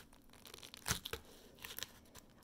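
A knife cutting into a dragon fruit, a few short crisp tearing and crunching sounds, close and fairly quiet, with brief pauses between cuts.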